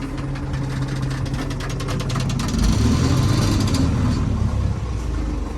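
A shaking tractor engine runs continuously with a low, rough, knocking rumble and a steady rattling vibration, swelling slightly in the middle.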